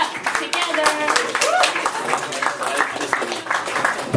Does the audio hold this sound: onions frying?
no